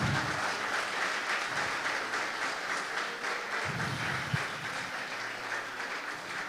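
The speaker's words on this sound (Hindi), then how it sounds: "जोरदार जोरदार तालियां खुदा के लिए" Applause from a church congregation standing at their seats, a steady dense wash of clapping filling the space throughout, with faint voices mixed in.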